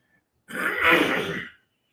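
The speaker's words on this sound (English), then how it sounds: "I'm clearing my throat." A single rough throat-clearing rasp lasting about a second, close and fairly loud, with silence before and after.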